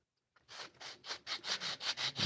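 A wooden box being sanded by hand with 80 grit sandpaper: about nine rhythmic rasping strokes in quick succession, close and fairly quiet, with no talking.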